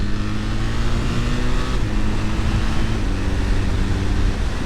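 A BMW motorcycle with Automated Shift Assistant in manual foot-shift mode runs loud and close, its engine note dropping sharply at a gear change midway and then settling again.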